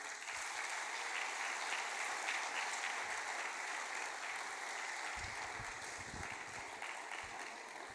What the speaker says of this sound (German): Danke auch für den freundlichen Empfang hier und für den Beifall